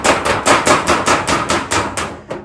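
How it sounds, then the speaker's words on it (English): A body hammer strikes sheet metal held on a dolly, shaping a car rocker panel, about ten times in a quick, steady rhythm, sharp and close, each blow ringing with a bright metallic clang. "using that as an anvil, and body hammer over here"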